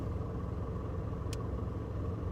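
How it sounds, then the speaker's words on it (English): Road traffic passing on a street, a low continuous engine rumble from nearby cars, steady and moderately quiet, with one brief sharp noise partway through. "There's traffic going by."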